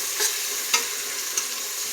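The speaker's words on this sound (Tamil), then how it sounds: "இது வந்து நல்லா பொன்னி வறுவலாக வறுத்துக்கணும்" Peanuts roasting in a pan for pulao, a soft even sizzle broken by three light spatula scrapes or clicks, close and fairly quiet, with no talking.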